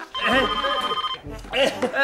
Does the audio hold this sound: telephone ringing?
yes